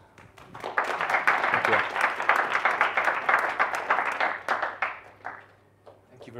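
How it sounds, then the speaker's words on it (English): A conference audience applauds after a technical talk, with a burst of clapping that builds and then fades out over several seconds before a voice briefly speaks. "do we have a round of applause?"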